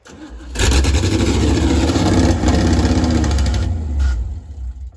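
A 1957 Chevy wagon engine, off the road for 30 years, cranks and catches, then runs loud and rough close by for several seconds before cutting out.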